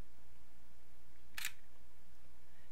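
A Sony A6300 camera's shutter button is half-pressed to focus, giving a single short, crisp click in an otherwise quiet room.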